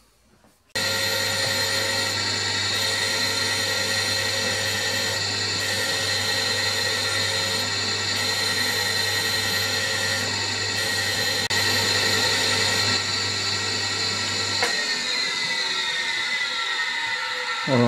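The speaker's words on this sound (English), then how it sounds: "we'll set up in the surface grinder now" A surface grinder works a steel part for a powered lathe slotter build, giving a loud, steady, tonal whine with a low hum underneath that runs unbroken for about fourteen seconds and then winds down.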